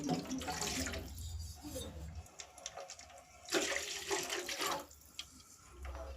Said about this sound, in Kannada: ನಾನು ಇದಕ್ಕೆ ಇಲ್ಲಿ ಎರಡು ಲೋಟ ಆಗೋಷ್ಟು ನೀರನ್ನು ಹಾಕೊಳ್ತಾ ಇದ್ದೀನಿ